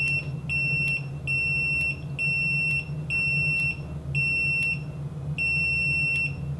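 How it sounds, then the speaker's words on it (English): A multimeter's continuity tester, on an EEVblog 121GW, gives a series of sharp, high-pitched beeps in a repeating on-off pattern, loud and close over a low hum. "So now it doesn't beep when it's shorted, but beeps when it opens."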